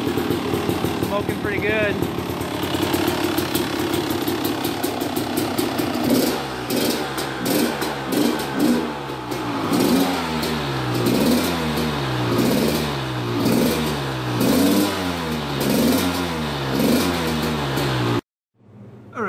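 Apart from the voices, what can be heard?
Honda CR250 dirt bike engine idling and revving while warming up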